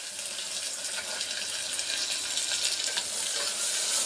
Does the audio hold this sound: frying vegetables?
yes